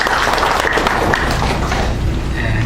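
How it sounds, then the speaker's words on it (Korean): A church congregation claps in thanks during a service, a loud, close round of applause with some irregular individual claps and faint murmuring underneath. "우리 서로서로에게 그리고 또 은혜를 베푸신 하나님께 우리 감사의 박수를 올려드리겠습니다."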